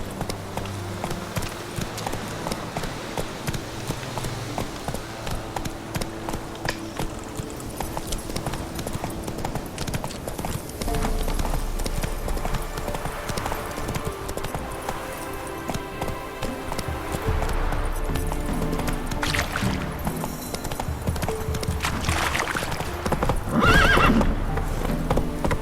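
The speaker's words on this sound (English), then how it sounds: "Whoa there, Roach" Roach, the horse in The Witcher 3, gallops with rapid clip-clop hoofbeats over game sound and music, and near the end gives a loud, close whinny.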